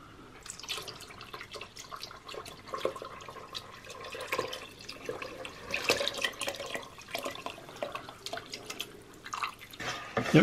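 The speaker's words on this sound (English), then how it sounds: "Then we're going to pour in the sugar water." Sugar water pours into fruit wine made with cherries, a soft continuous trickling and splashing with irregular drips, close and fairly quiet throughout.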